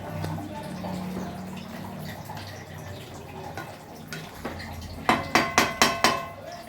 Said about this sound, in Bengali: মাঝে মাঝে একটু নাড়িয়ে দিতে হবে যাতে নিচে মাংসটা লেগে না যায় আর পেঁয়াজগুলো একটু ভালো করে গলে যায়